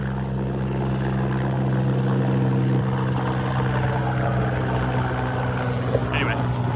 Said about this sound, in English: Big old helicopter.